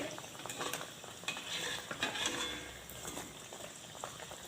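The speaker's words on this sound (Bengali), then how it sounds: "দুটো আমি দিয়ে দিয়েছি তেলের মধ্যে আর দেখুন ফুলে কতটা বড় হয়ে যাচ্ছে" Vegetable bread pockets fry in hot oil, giving a steady close sizzle and bubbling crackle with occasional soft scraping of a utensil, without any talking.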